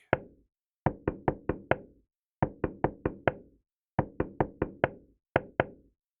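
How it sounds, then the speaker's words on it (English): Knuckles rap on an apartment door in a tune-like rhythm, with four groups of quick knocks, each group trailing off, and brief silences between them, close and clear with nothing else heard. "Max knocked on Rose's door to the rhythm of Angels We Have Heard on High."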